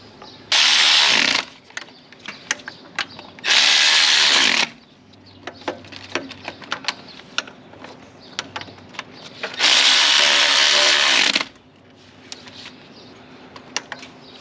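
Power tool driving bolts on a Jeep Wrangler's power steering during a water pump job, three loud bursts of whirring separated by quieter clicks and rattles of handling parts.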